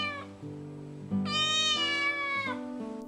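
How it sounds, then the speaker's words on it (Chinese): A cat meows in a Taiwanese radio drama: several drawn-out, clear meows close by, one rising longer and louder in the middle, heard alone with no talk. "喵喵咧叫一声"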